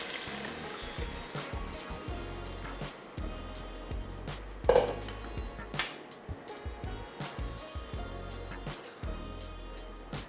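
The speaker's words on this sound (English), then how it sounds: "I'm just going to cook it in the oil." Food cooking in hot oil in a pan for a kale stew, a continuous close sizzle and crackle with small pops and a few louder spits, no one talking.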